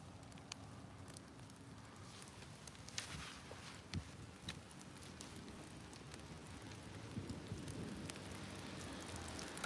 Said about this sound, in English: Starting to rain a little harder here.